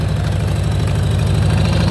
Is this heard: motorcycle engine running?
yes